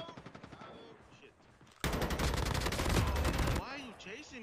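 Gunfire in Call of Duty Mobile battle royale: scattered single shots give way to a dense, loud burst of rapid automatic fire lasting nearly two seconds, with a voice talking over it.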